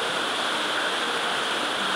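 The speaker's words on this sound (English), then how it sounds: "Can't see the ocean right now. We'll do this in the daytime, but you can hear it." Ocean surf rolling in on a Jamaican shore at night, a steady, dense wash of broadband noise with no distinct breaks, close and continuous, with no voices.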